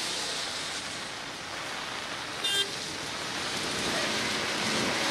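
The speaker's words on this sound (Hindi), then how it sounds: "इस वक्त भी जो है वो बारिश हो रही है।" Steady rain pours onto a road in Karachi, a dense, even hiss throughout with a brief light clink partway through and no voices.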